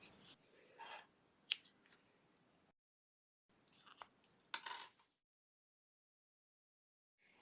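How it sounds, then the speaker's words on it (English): Scissors snip through crochet yarn in a few sharp, close cuts separated by long quiet pauses, with faint handling rustle between them. "and cut this yarn."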